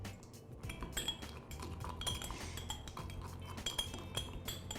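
A spoon stirs dehydrated apples with honey in a bowl, making quiet, irregular clinks and scrapes of utensil against the dish, close by and soft, with no talking.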